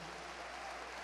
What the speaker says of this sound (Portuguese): Uma salva de palmas também para o pastor Ed René